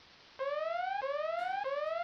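An Avast antivirus alarm plays alone: three repeating rising electronic tones, each sweep about two-thirds of a second long, loud and clean with no talk over them.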